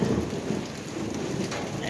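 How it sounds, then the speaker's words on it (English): Heavy garden rainstorm with thunder: a dense, steady hiss of rain on surfaces with low rolling rumbles of thunder underneath, continuous and fairly close, no talking. "oh, hear the thunder and lightning."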